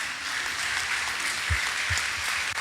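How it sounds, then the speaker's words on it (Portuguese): Church congregation at an Assembleia de Deus service in Londrina applauding, a steady wash of dense clapping with a few low thumps near the end. "Você pode dar uma salva de palmas para Jesus?"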